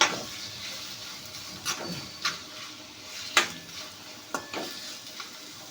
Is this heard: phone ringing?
no